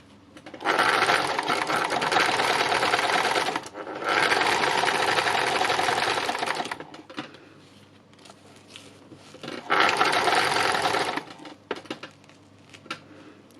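A sewing machine free-motion embroidering a winter landscape on fabric runs in three loud, close bursts of rapid stitching, each a few seconds long, separated by quieter pauses with faint handling noise.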